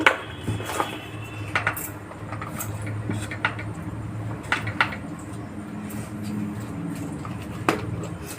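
Lentil batter for dahi vada is whisked by hand in a bowl, producing continuous close scraping with irregular sharp clinks and knocks against the bowl's sides.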